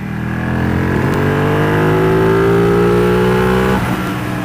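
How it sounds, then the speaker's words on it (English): Suzuki Hayabusa motorcycle with a Sprint air cleaner, its engine and intake roaring loud and close as revs climb steadily during a pull, then dropping away. "That big Sprint air cleaner let me hear all the induction noises on this bike."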